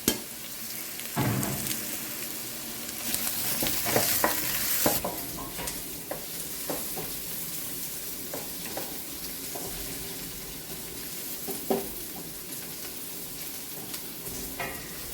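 Salted onions sizzle and crackle in a hot pan for a spicy crab curry, with repeated scraping and stirring sounds from a utensil up close.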